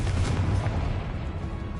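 Confringo spell explosion in Hogwarts Legacy, a single heavy, booming blast with a deep low rumble that fades over a couple of seconds, loud and close, with no voices.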